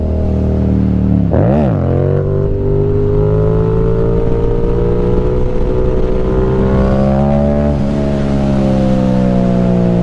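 A motorcycle engine roars loud and close during a third-gear clutch-up: a quick rev dip and snap early on, then a sustained pull with the pitch climbing steadily as it accelerates.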